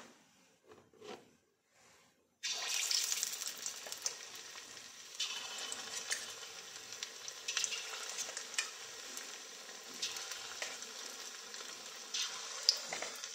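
Paneer pakoras go into hot oil and start a steady, bright sizzle that bubbles on close by after a quiet start with light handling noises, with no talking over it.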